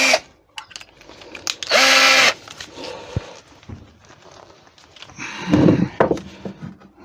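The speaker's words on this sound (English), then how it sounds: "So get the bottom piece in dead center. Don't forget to countersink it." Power drill countersinking a hole in a turned wooden candlestick base: a loud whining burst of about half a second, then a second rougher grinding pass later, with light handling knocks between.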